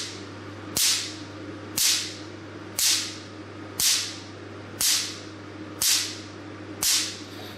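A pico laser machine fires short pulses onto paper: seven crisp, sharp snaps at even intervals of about one second, each decaying quickly, over a steady low electrical hum.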